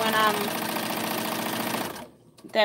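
A sewing machine runs at a steady, fast stitching rhythm while half square triangles for quilting are fed toward the needle, then stops abruptly near the end.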